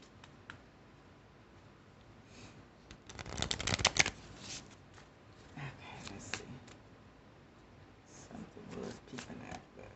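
Oracle cards are shuffled in a short, crisp riffle near the middle, then a few faint flicks and taps follow in a quiet room.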